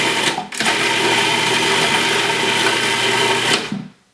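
A food processor whirs at a loud, steady pitch while chopping raw apple pie filling, after a brief start-up surge, then spins down and stops near the end.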